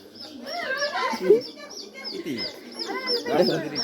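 Chickens clucking close by at a decorated gathering in Chandpur, a run of short, chattering calls and squawks in quick succession, with a few sharper cries standing out over faint background noise.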